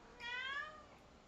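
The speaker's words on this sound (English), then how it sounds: "I'm talking to a cat, but he's deaf." A deaf cat lets out a single clear meow, close and fairly quiet, with no talk over it.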